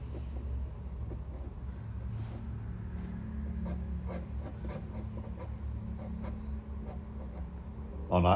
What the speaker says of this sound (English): That's the pen that I'm using there, just to fix up a few areas.